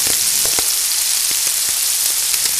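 Liver pieces sizzle and fry in a pan for Filipino higado, a steady loud crackling hiss with scattered pops and no voices.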